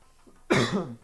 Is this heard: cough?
yes